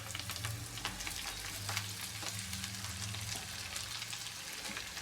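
Fresh chopped fenugreek leaves hit lightly browned garlic in hot oil and sizzle steadily and fairly loudly for the whole stretch, with a few soft stirring scrapes and no talking.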